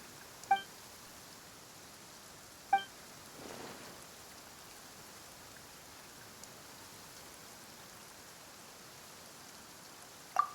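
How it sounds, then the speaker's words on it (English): Sudden rain in the Genshin Impact game world, a soft, steady patter of light rainfall spread evenly throughout, broken by a few brief, sharp chime-like accents. "Why is it raining all of a sudden?"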